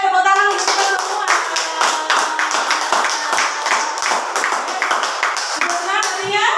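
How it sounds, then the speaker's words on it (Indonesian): Schoolchildren in a classroom clap their hands in a quick, rhythmic patter of many close claps, with children's voices chanting along over the clapping. "Tepuk tangan untuk kita semua"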